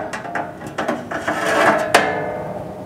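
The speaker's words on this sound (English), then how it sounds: "we can lift the casing off" Plastic casing of a Haas CSMD simulator unit being lifted off after its security Torx screws are removed, giving a run of close, sharp clicks and knocks with scraping, ending in one louder snap.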